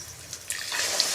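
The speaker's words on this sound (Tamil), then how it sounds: "தேவையான அளவுக்கு தண்ணி ஊற்றிக்கணும்." Water pours and splashes steadily into a pot of pea kurma, growing louder and fuller after a brief trickle at the start.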